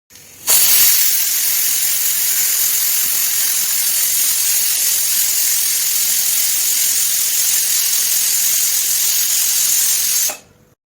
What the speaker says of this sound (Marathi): हे पहा चार पाच मिनटानंतर मोठ्या आचेवर कुकरची एक शिट्टी झाली आहे